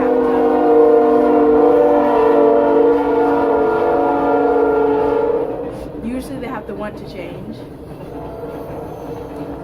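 A train passes close by, its horn blaring in a long sustained blast before rumbling wheels and clatter take over, with a voice speaking underneath.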